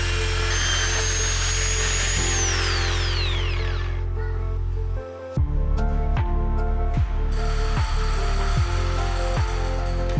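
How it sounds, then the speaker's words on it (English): A power drill runs with a steady whine, then a 19 mm spade bit bores into scrap wood with a rough, rhythmic chatter and repeated bites as the hole is cut. "Use spade drill 19 mm to make hole."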